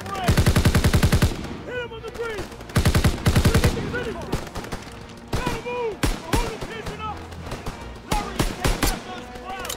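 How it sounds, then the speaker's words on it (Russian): Rapid bursts of machine gun fire in Call of Duty: WWII, several long volleys and scattered shots, with a voice talking over parts of it. "Вот еще бы Ховард не шел бы под выстрелы."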